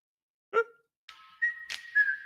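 A person whistles a short melodic tune in a commercial break, with a brief opening note, a pause, then sustained clear tones rising and falling, close and alone.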